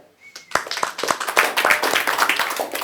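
Applause from an audience at a club event, beginning with a few scattered hand claps that quickly build into brisk, fairly close clapping from a modest crowd, with a brief tone at the start.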